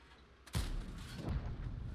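A Skoda T 56 tank cannon fires a single heavy shot in World of Tanks, a sudden deep boom midway through that rolls on as a rumbling tail over low battle ambience.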